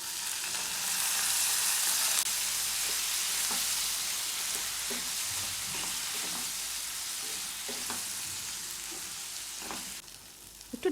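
Spiced potato masala for dosa filling sizzles loudly in a pan as water is added, giving a continuous hissing fry with occasional stirring scrapes.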